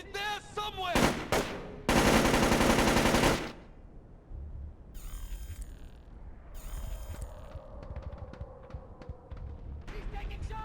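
In Splinter Cell: Chaos Theory (2005), a few sharp bursts of gunfire crack out early, then give way to a low hum and scattered quieter in-game noises and distant shots, with no talking.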